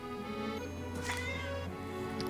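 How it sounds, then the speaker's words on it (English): Cat meowing in the Voodoo Detective video game, a short drawn-out cry heard over a steady low background hum. "Sorry, that's my cat."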